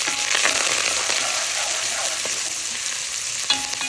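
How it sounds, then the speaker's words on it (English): Onions, curry leaves, ginger and garlic fry in hot oil for a pakora curry, a loud, dense sizzle with occasional stirring scrapes and a sharp clink near the end. "Let it fry and saute and let that onion release all that sweet flavor into this pakora curry"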